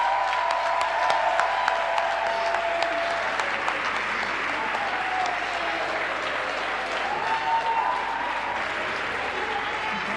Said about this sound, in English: a round of applause for Professor Nomalungelo Gina from the University of Pretoria